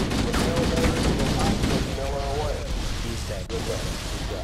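Dense, sustained gunfire from Halo: Combat Evolved rattles continuously in rapid overlapping bursts, with a voice speaking over the shooting.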